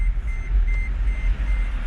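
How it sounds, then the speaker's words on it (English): A car's seatbelt warning chime beeps in short, evenly spaced tones over a loud, rumbling engine hum. "if I'd have put my damn belt on, would have stopped that beeping"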